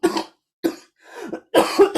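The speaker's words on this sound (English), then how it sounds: "I've got a terrible cough." Four harsh coughs come in separate bursts with short silent gaps between them, close to the microphone.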